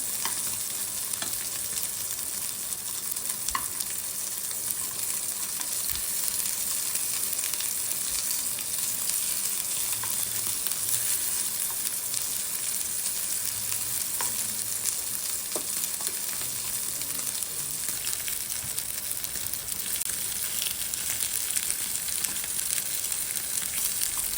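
Paneer tikka frying in oil in a pan, a steady soft sizzle running without a break, close and even in level, with occasional small crackles and no voices.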